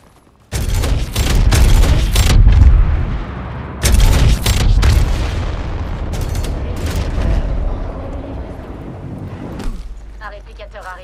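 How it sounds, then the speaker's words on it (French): Gravity cannon launch in Apex Legends, a loud booming whoosh and rumble that surges, breaks, and surges again before fading into a quieter tail, with a voice speaking over it. "Vite, servons-nous de ce canon gravitationnel."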